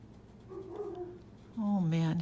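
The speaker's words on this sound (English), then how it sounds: "I don't know if you can hear my dog" A pet dog whines and whimpers near the house, wanting to be let inside, with a soft rising whine early and a louder, sustained high whimper toward the end over a quiet room.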